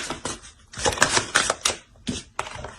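Tarot cards being laid out and added to a spread, giving a string of crisp, papery clicks and taps in quick irregular bursts, fairly close and clear, with no voice over them.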